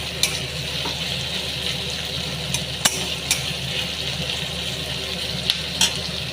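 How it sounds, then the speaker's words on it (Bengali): Onions sizzle steadily in hot oil in a pan, a constant soft frying hiss with a few sharp clicks of a utensil against the pan, close but fairly quiet, with no voices. "এবার দেখুন পেঁয়াজগুলোকে ভেজে নেব"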